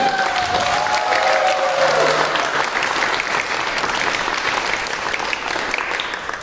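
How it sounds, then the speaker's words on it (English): An audience applauds author Claudia Gray at the Copernicon 2023 convention: dense, steady clapping that is loud and close throughout and eases off only slightly toward the end. "a round of applause for Claudia Gray"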